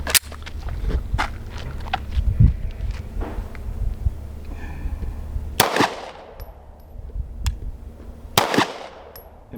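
Two sharp pistol shots crack out at an outdoor range, well apart, after a stretch of quieter handling noise and shuffling.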